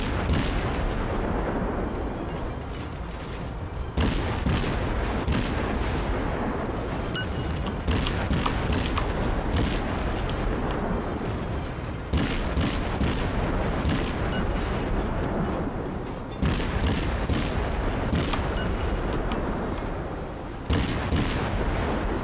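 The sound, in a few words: naval gunfire in a video game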